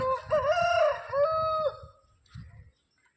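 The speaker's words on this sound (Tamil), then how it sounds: "இன்னொரு தடவை இந்த கோழி கத்துச்சுன்னா இன்றைக்கி நான் போட்டு தள்ள போகிறேன்" A home sewing machine free-motion quilting runs steadily at high speed for about five seconds, a fast even mechanical rattle, then stops, leaving faint clicks and handling sounds.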